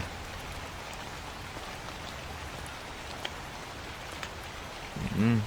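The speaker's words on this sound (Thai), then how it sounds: "ฝนตก" Steady rain falling outside a building at night, a continuous even hiss of drops on surfaces that holds throughout, with a brief louder burst of sound near the end.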